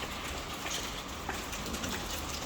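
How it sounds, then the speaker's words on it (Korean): Steady rain falls outside a metal workshop, a dense, even hiss of drops that holds at the same level throughout with no voices or other distinct sounds. "지금 밖에는 비가 오고 있고"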